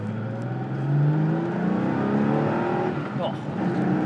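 A classic Porsche 911 hot rod drives along, its engine humming and revving steadily from close by, a rising and falling tone that runs through the whole clip.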